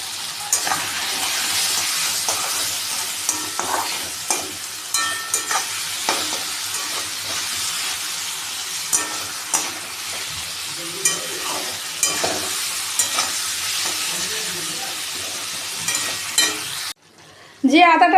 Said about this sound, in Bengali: তো এই গোলা মশলাটা আমি এখন ঢেলে দিচ্ছি